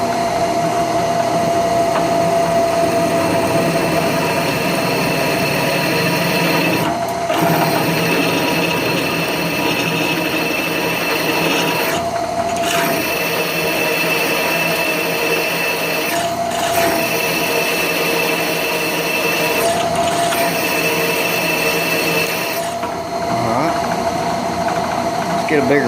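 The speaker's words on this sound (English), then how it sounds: "we'll drill one more hole" A loud, steady motor whine from a drill press with a 3/8 bit runs continuously, broken by a few short dips as the drilling pauses, with voices heard over it.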